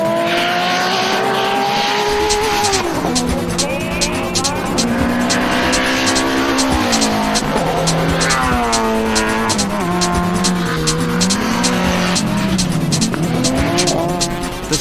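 Race cars lapping at the Super Lap Battle time-attack event at Buttonwillow Raceway, engines revving loud and continuous with shifting pitch as they pass, tires squealing, and a voice heard under the racket.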